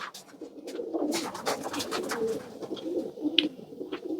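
Racing pigeon cocks coo in a loft, a steady overlapping murmur of soft, low coos from several nearby birds with brief sharper calls mixed in.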